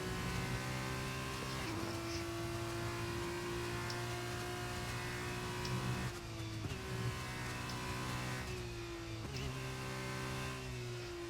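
An F2 race car engine at Silverstone in a racing game, a high steady whine with upshift drops every few seconds, loud and continuous, running alone without talk.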